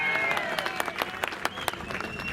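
An audience at a political speech breaks into dense, sustained clapping and cheering, a loud crowd applause filling the whole moment.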